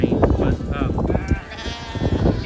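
Sheep bleating on a pasture in early spring, several close, wavering bleats in quick succession with short gaps, loud and overlapping.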